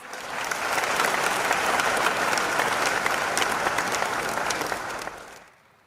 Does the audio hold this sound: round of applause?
yes